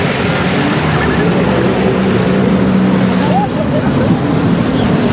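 A jet ski runs across the sea at a Russian beach resort, its engine a steady close drone mixed with splashing water and wind buffeting, continuous throughout.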